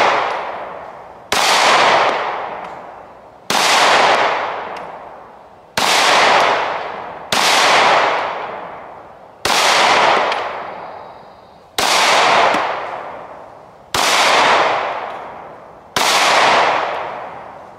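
A small, snappy Stoeger STR-9 MC pistol fires nine loud, sharp shots close by, spaced about two seconds apart, each with a ringing decay.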